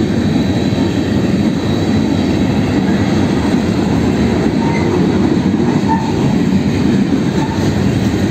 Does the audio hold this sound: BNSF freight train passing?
yes